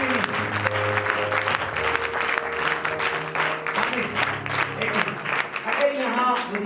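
A worship service congregation claps in dense, sustained applause, while a voice speaks over it and music plays underneath.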